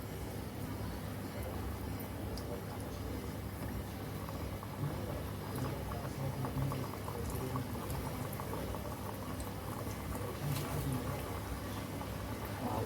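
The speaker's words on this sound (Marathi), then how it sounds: "आता असेच आपण दुसरे पण तळ घ्यायचे" Wheat-flour mini khari pastries deep-fry in hot oil, a continuous close bubbling sizzle with steady crackle, while someone talks over it at times.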